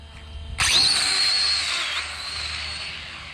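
A Hobao Hyper 9E electric RC drag car makes a test hit, its motor bursting suddenly into a loud high-pitched whine that holds steady and fades slightly over a few seconds, close by with no talk.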